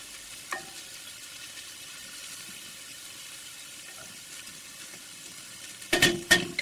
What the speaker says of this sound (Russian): минуты 3-4 тоже чили с шампиньонами провели на сковороде